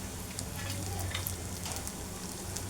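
Red chilli, cumin, coriander seeds and garlic cloves frying in about three spoons of oil, a steady soft sizzle and crackle with occasional small pops, fairly quiet and with no talking.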